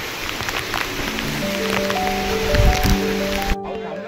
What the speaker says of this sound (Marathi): वरून धोधो पाऊस चालू आहे।